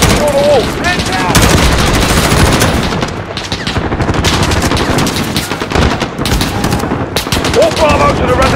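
Dense automatic rifle and machine-gun fire rattles through a Call of Duty: Modern Warfare firefight, with loud overlapping bursts packed close together and shouted voices mixed into the din.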